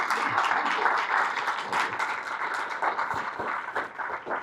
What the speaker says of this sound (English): Please give Monk Malloy a big round of applause, everybody.